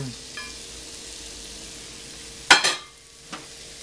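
Ginger and garlic hit a hot pan, giving a sudden loud sizzle burst that quickly fades, followed by a shorter second hiss; before it, a quiet kitchen hum with a faint clink.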